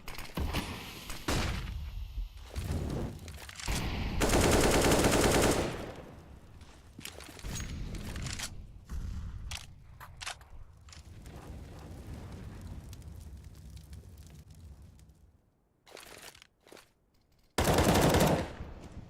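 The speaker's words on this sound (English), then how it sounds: "Finds a quick headshot on Snacks." Gunfire in Counter-Strike: Global Offensive during a competitive ESEA MDL esports match, with loud bursts of rapid automatic fire and single shots, separated by quieter stretches of in-game ambience.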